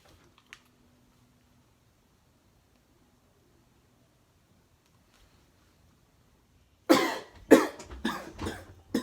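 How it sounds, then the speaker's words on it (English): A person coughs several times in a short, loud burst at close range, nearly alone after a long quiet stretch, the sound of a slightly irritated throat. "just a little cough"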